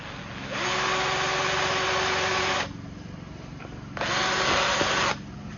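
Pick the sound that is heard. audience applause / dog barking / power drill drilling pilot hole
power drill drilling pilot hole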